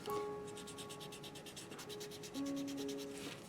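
A paper shading stump is scrubbed to clean red pigment off its tip, giving quick, faint, rhythmic rubbing strokes close up over a soft tonal background.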